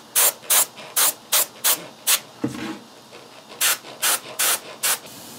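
Airbrush spraying paint onto a droid arm, a series of short, sharp hissing bursts in two rhythmic runs with a brief low thump and pause between them, close and alone.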